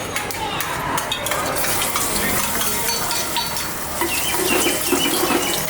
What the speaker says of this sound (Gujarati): જ્યાં સુધી લસણની કળી થોડી ગોલ્ડન ન થાય ત્યાં સુધી એને શેકી લઈશું